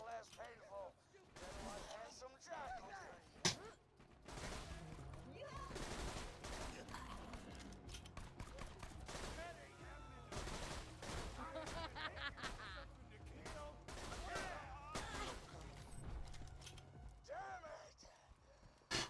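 Burst-fire gunshots from a Dahl weapon in Borderlands 2 crackle in rapid clusters of sharp shots against other game noise, while someone talks over the gameplay.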